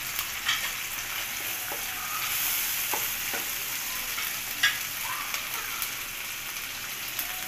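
Prawn curry masala is sautéed in a pan, a steady close sizzle with occasional scrapes and taps of a spoon stirring through it, moderately loud and without voices.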